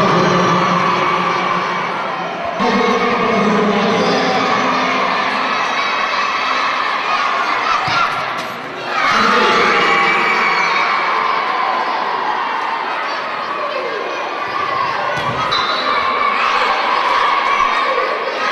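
A crowd cheers and shouts at a school football friendly match, with children's voices in a loud, sustained roar that dips briefly a couple of times before surging again.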